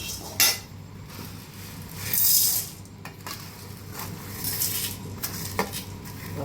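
Spices roasting in a pan as they are stirred, with a utensil scraping and clinking against the metal in scattered bursts over a low background hum and a faint sizzle.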